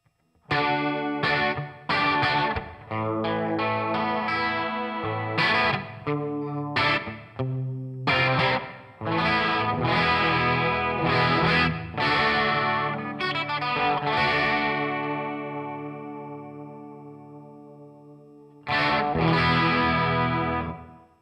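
Electric guitar played through a NUX Mini Core pedal with reverb mixed in: strummed and picked chords ringing out with a lush, effected wash and long decaying tails, then a pause before a final loud strum.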